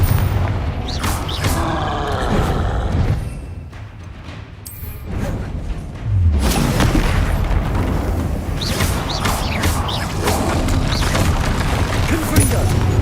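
Confringo fire-blast spells explode in the video game Hogwarts Legacy, heavy booming blasts and crackling bursts in rapid succession, loud and close, with a short lull before another volley erupts.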